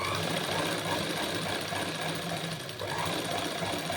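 A sewing machine runs continuously while stitching a bar stitch on a blouse shoulder, giving a dense, steady mechanical chatter at close range that dips briefly near the end, with no talk.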